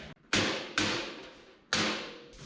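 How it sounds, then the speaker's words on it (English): A hammer strikes scrap metal pieces, flattening them against a makeshift dolly during a welding cart upgrade: three sharp, loud, ringing blows spaced unevenly, each decaying quickly. "Hammer these suckers flat."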